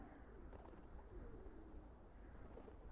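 Soft bird cooing, like pigeons or doves, comes from the video game Hyper Light Drifter, faint and low beneath a steady ambient wash, with a few brief calls standing out.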